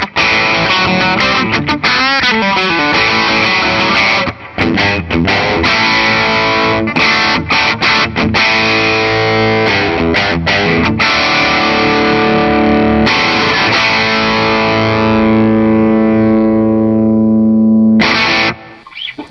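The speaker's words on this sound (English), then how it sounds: "Now, how does it handle distortion?" An Epiphone 150th Anniversary Zephyr DeLuxe Regent electric guitar played through distortion on the bridge pickup, loud sustained chords and riffs with short breaks, ringing out alone.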